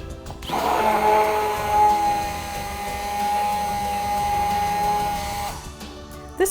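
An immersion blender whirs steadily as it mixes lye, goat's milk and oils into cold process soap, a continuous motor drone with a sustained whine that starts abruptly and cuts off near the end, with no talking.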